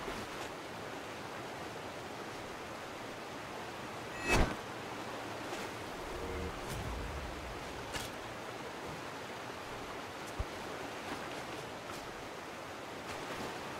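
Water ambience in the video game Death's Gambit, a quiet steady wash of flowing, surf-like noise with a few soft thuds and one sharper splash-like burst, no voices.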